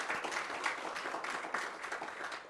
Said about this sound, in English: a round of applause for the second lot of participants